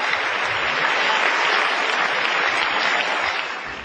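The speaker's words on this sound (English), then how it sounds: "Give Jesus a clap of offering as he takes over." Church congregation giving a sustained, dense round of applause, a loud even wash of clapping that fades slightly at the end.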